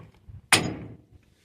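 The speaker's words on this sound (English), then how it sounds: "Give it a little tap with a hammer." A hammer gives one sharp metallic tap to a pin on a trailer A-frame jack, close and distinct, with only faint handling noise before and after.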